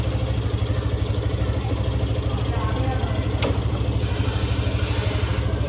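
A motorcycle engine idles steadily with the clutch held, a low, even rhythmic thrum running throughout at close range, with a brief sharp click near the middle and a faint high whine toward the end.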